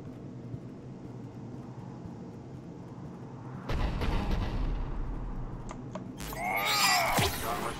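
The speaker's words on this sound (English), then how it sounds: "The cannon fire is clearing the way." Cerberus cannon fire in Mass Effect: a quiet rumbling backdrop breaks into heavy booming blasts midway, followed by a loud, roaring, whooshing burst near the end.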